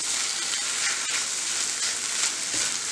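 Paneer filling with chili and tomato sauce frying in a pan over low heat, a steady close hiss of sizzling with soft stirring scrapes throughout and no talk.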